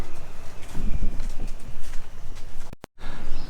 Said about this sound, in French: Il y a un chemin forestier très joli dans la nature avec le bruit des oiseaux